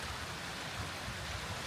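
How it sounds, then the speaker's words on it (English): A strong stream rushes below a nature trail on a rainy day, making a steady, even broadband wash of water that is moderately loud and continuous, with no voices. "we've got another stream down below here, which is running quite strong actually."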